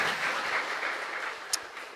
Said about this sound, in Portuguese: dê suas palmas para Jesus